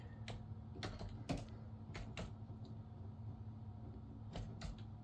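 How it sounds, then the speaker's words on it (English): Quiet computer keyboard typing in scattered bursts of sharp key clicks, entering Ford build data to fix A/C failure on a 2024 Ford F-150, over a low steady hum. "Okay, so I'm just going to type in Ford"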